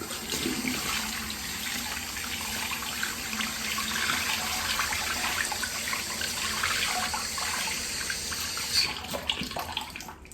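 Tap water runs steadily while a poly hairpiece is washed under it, a loud, continuous close rush with slight splashing shifts and no talking, ending abruptly near the finish.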